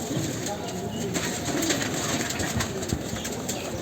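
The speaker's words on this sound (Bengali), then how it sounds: "এই দেখেন কবুতর" Low, rolling coos from a male pigeon in a busy loft come in repeated soft bursts at close range, with a voice murmuring faintly in the background.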